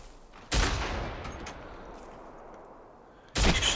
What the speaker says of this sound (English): He's shooting me.